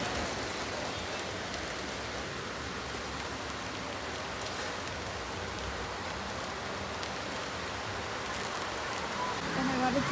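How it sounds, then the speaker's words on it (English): Rain falls steadily outdoors as a dense, even hiss of drops spread across the whole clip, moderately loud with no distinct voices over it. "The rain is here."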